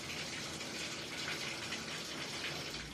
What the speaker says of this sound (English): I'm gonna hop in the shower